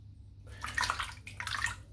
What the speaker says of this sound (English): I'm just going to lather up again.